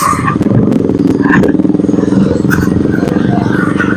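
A large motorcycle idles and runs close by at a roadside next to a gasoline station, a loud rough throbbing engine with clattering street noise around it.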